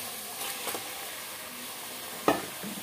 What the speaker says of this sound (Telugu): ఇప్పుడు మనం ఏం చేద్దామంటే మనం ముందే కలిపి పెట్టుకున్న చికెన్ అయితే వేసేసేద్దాం.